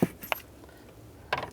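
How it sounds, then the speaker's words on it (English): Metallic clicks from a 7mm socket ratchet loosening the under-glove-box panel screws on a 2002-2009 Chevy Trailblazer, a couple of short sharp ticks near the start and a brief rattling burst at the end, with quiet between. "Take these screws out. Use a 7mm socket."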